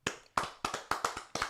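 Sparse clapping from a film-event audience greeting a guest director: about six sharp, distinct claps at an uneven rhythm, fairly close and quiet, with no crowd swell behind them.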